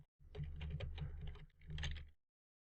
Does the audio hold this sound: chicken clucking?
no